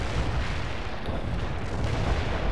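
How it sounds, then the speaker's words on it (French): Artillery cannons fire in the World in Conflict real-time strategy game, a dense, continuous wall of rumbling booms and blasts that stays loud and steady throughout with no pauses. "Utilisez vos canons, Romanov."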